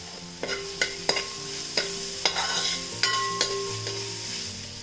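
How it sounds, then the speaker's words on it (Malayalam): Pepper and turmeric powder being stirred into beef in an uruli pan, with a spoon scraping and tapping the pan at irregular intervals over a steady close sizzle, no voices. "ഇനി ഇതിലേക്ക് 1 ടീസ്പൂൺ കുരുമുളക് പൊടിയും 1/2 ടീസ്പൂൺ മഞ്ഞൾപ്പൊടിയും കൂടി ഇട്ടിട്ട് ഇളക്കി കൊടുക്കണം."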